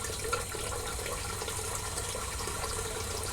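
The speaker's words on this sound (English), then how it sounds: "you pre-soak it in hot water, as hot as you can get out of your tap" Hot water runs steadily from a tap into a sink, a continuous close rushing and splashing with no pauses.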